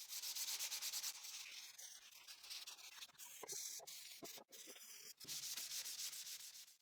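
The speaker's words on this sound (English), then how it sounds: "To finish, I'll sand manually with 220 grit sandpaper." Wood is sanded by hand with 220 grit sandpaper in rapid, rhythmic back-and-forth rubbing strokes, close and steady, broken by a few short pauses, with no talking.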